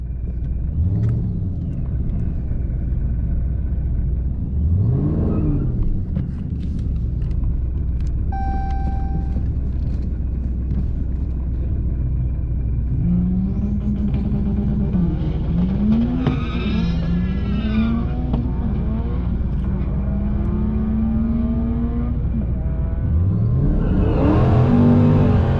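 ProCharged 5.7 R/T car drag racing down a lane at Capitol Raceway, loud with rising engine revs and gear changes and a whining supercharger over a constant deep rumble, then a final surge of acceleration near the end.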